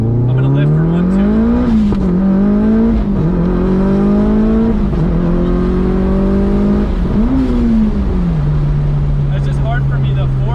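A Mitsubishi Evo 5 race car engine revs loud and close, climbing in pitch and dropping back through several quick gear shifts before settling into a steady drone.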